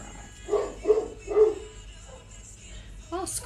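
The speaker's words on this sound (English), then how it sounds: "Please ignore my dog. There is people walking past, and he thinks he owns the street." A pet dog barks three times in quick succession at people walking past on the street, loud and close, followed by a short softer yelp.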